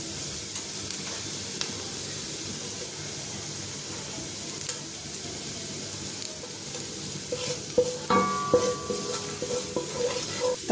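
Garlic and ginger frying in oil in a pan for chicken chow mein, a steady sizzle and hiss throughout, with stirring clatter and a few utensil clinks toward the end.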